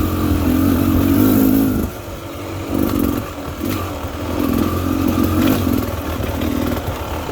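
A 2022 Beta Xtrainer dirt bike fitted with a fatty pipe rides over rough cliffside terrain, its loud close engine droning then dipping and surging again with rhythmic revs and clattering from the rough ground.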